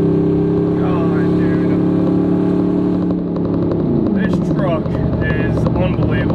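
A cammed, lifted Tahoe with a 450 hp engine drones steadily at highway speed while climbing a hill, then downshifts and its pitch rises, loud and close, with someone talking over it.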